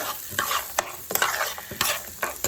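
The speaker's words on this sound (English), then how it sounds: "we're going to saute this for a few minutes" Mixed vegetables sautéing in a hot pan with onion and garlic, a steady sizzle broken by several sharp stirring scrapes and clatters, close and alone with no voices.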